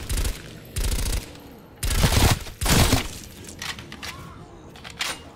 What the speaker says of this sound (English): I'm on my last mag, so I swapped the MP5.